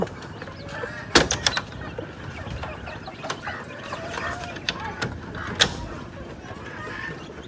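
Hens and a rooster on a small egg-laying farm cluck and call intermittently at close to moderate range, with a few sharper bursts over a steady background of farmyard activity.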